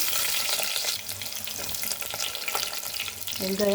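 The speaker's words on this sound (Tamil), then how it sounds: "நல்லா பொன்னிறமாக வதங்கட்டும். நல்லா வதங்கணும்." Onions sautéing in hot oil with fenugreek and fennel seeds, a steady close sizzle with occasional stirring scrapes and a brief tonal clink near the end.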